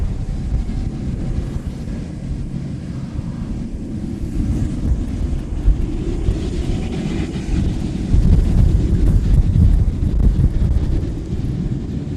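Wind buffets an outdoor microphone at a plane-spotting spot beside Honolulu airport, a steady low rumbling roar that swells louder in the last few seconds, with no voices.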